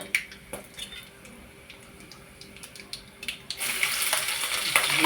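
Cinnamon, coriander, mustard seeds and cumin hit hot oil for kanda poha: faint clinks and stirring at first, then a loud, close sizzle that swells and holds through the final second.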